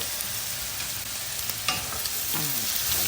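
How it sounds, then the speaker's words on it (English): Saltfish sizzles in a pan with seasonings and Scotch bonnet peppers, a steady close frying hiss with occasional stirring scrapes and no talk. "Let's cook the saltfish and all these beautiful seasonings."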